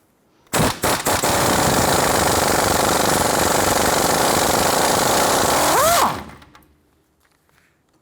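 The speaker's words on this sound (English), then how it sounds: "I'm going to go ahead and use our 21mm socket on our castle nut here." An impact gun with a 21mm socket spins the castle nut off a 1993-1997 Ford Ranger outer tie rod end, hammering loudly and continuously for about five seconds at close range, then winding down with a rising whine. Nobody speaks.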